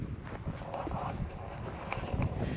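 Wind gusting across a spring vegetable garden in Texas: a low, rumbling buffet against the microphone with soft fluttering, steady and close throughout, with no clear voices.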